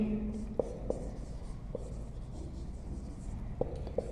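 Marker or chalk writing on a classroom board during a maths lesson, a few short scratchy strokes spaced irregularly, faint under a quiet room hum and the teacher's voice.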